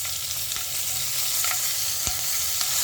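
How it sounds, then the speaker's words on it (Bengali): Loud, steady sizzling of whole cumin, radhuni seeds and slit green chillies frying in hot oil, with a few scrapes and taps of a spoon in the pan. No speech. "ফোড়ন গেল জিরা, গোটা জিরা আর রাঁধুনি, আর যাচ্ছে চেরা কাঁচা লঙ্কা"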